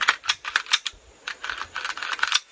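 Rapid, crisp mechanical clicks in quick bursts with a short pause between, close and sharp, like a gun action worked back and forth by hand.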